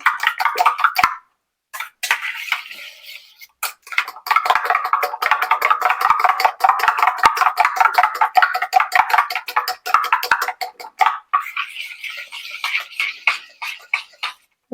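Eggs beaten for spring onion fried rice, a rapid, steady clatter of whisking against a bowl that runs nearly continuously with a few short pauses, close and fairly loud.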